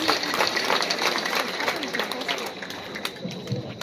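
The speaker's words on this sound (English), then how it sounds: "Let us give the Vice Chancellor a hearty clap." An audience at a university graduation ceremony claps for the Vice Chancellor, a dense, fairly steady patter of many hands heard indoors, tapering slightly toward the end.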